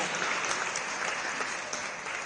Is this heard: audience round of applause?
yes